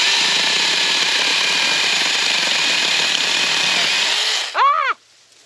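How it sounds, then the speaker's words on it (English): A cordless mini chainsaw used for garden pruning buzzes loudly and steadily at close range for over four seconds, then spins down with a falling whine and stops, leaving near silence. "Kim's first time with a, I don't even know what to call this, a mini chainsaw."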